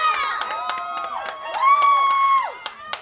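Crowd cheering at a boys' high school soccer match, a loud swell of shouts and whoops with rising and falling pitch over scattered sharp claps and impacts, near and continuous.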